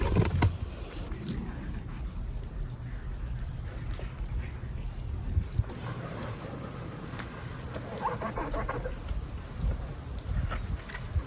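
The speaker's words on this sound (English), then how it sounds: "I'm gonna hit it with the hose again." A garden hose sprays water over a Tao Tao dirt bike during a wash, a continuous hissing splatter of water hitting the plastic and metal, steady and close throughout with occasional louder bursts.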